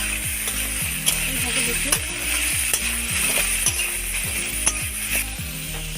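Ash gourd, grated coconut and shrimp are stirred and fried together in a pan, giving a steady sizzle with repeated scraping strokes of a spatula at an even rhythm, while someone speaks over it.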